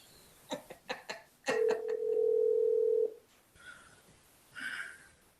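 A telephone emits a few quick dialing beeps, then a steady tone of about a second and a half, and finally fainter electronic tones, all over quiet room hiss during a call back into a hearing.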